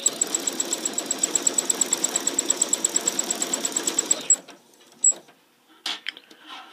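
A sewing machine thread painting with two threads through one needle runs in a fast, even rapid-fire stitching rhythm for about four seconds, then stops, leaving a few small clicks and handling sounds.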